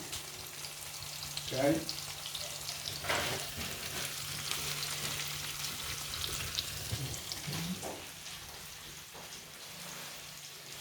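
Slices of salame frying in a pan on top of softened onion give a steady close sizzle with a few louder crackles and stirring bumps, and a voice speaks briefly.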